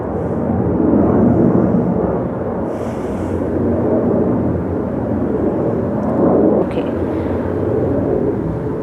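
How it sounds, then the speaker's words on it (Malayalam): An airplane flies overhead, a loud, continuous low roar that swells slightly and then holds steady for the whole stretch, with no speech over it. "ഒറ്റ മിനിറ്റ് ഇവിടെ ഫ്ലൈറ്റ് പോകുന്നതാണ്"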